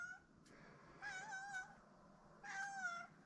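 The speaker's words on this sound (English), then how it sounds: "Hi, Tater Cat." A cat meows twice in a cluttered machine shed, each call a drawn-out, rising-and-falling cry about a second long, separated by a short pause and fairly close, with a faint click in between.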